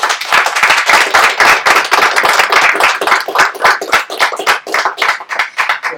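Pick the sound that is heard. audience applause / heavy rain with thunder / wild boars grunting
audience applause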